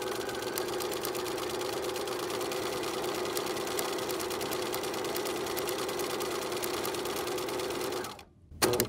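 A sewing machine runs continuously while stitching the zigzag side of a practice buttonhole, a fast, even mechanical chatter held close and steady for about eight seconds before it abruptly stops.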